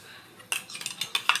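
A mixer jar is rinsed while making Tamil chicken curry, with sharp clinks and knocks of metal and dishes tumbling in quick succession at close range, with no talk.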